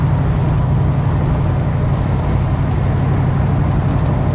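Pontiac Grand LeMans engine running steadily while driving, with the timing and carburetor out of adjustment so it feels underpowered; a loud, constant low drone with no talk.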